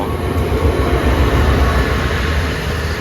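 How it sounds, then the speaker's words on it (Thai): A Thai special express train rumbles steadily close by, a heavy continuous roar of wheels and carriages rolling into Sam Sen station. "ขบวนจะเข้าจอด ที่สถานีรถไฟ"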